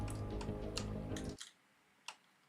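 A single sharp knock on a computer keyboard, loud and close, follows a stretch of dense, bright game sound effects and stands out alone against near silence.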